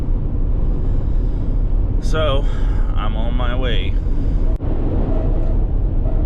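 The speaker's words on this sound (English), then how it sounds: "I apologize for the wind noise in advance." Strong wind roars and buffets around a van driving north through a snowy blizzard, a loud, steady low rumble throughout, with someone speaking briefly over it.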